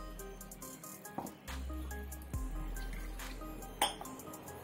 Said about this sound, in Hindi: अब हमने जो मिक्सी का जार लिया था उसी को धोकर पानी डाल देंगे।